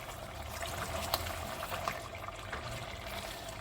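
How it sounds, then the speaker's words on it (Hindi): Mutton with almonds and spice masala frying in a pan, its liquid nearly cooked off, giving a steady, close sizzle and bubbling hiss with faint crackles throughout, no voices. "ये देखिए मसाला भी भुन रहा है"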